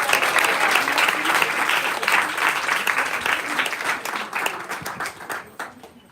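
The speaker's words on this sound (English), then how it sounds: "One more big round of applause for Vasudev." An audience at a devotional event breaks into dense sustained applause, many hands clapping together, loud at first and then gradually thinning and trailing off toward the end.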